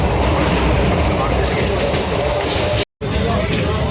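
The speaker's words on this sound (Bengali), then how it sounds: "ট্রেনটা একটু ফাঁকা করে এই দমদম ঢুকছে" Inside a suburban train pulling into Dum Dum station, a loud continuous rumble of wheels and carriage noise fills the space, with faint murmuring of passengers beneath and a brief dropout near the end.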